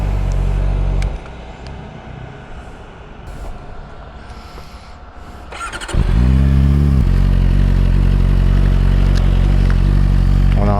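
A QJMOTOR SRK 421 RR motorcycle engine with a short exhaust runs at a steady rumble, then rises into a louder, sustained revving drone, heard close with no talking.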